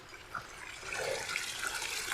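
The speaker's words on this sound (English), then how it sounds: "I never get tired of running water." Running water of a mountain stream along the Hunter Creek Trail in Nevada rushes in a steady, close, broadband wash with no voices over it.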